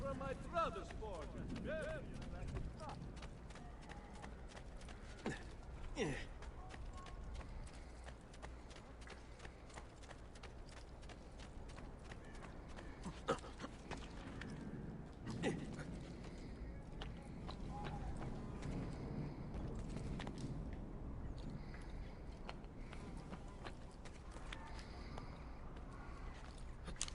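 Horse hooves clip-clop steadily at a brisk pace in the Assassin's Creed video game, a continuous rhythmic trot running throughout beneath a voice.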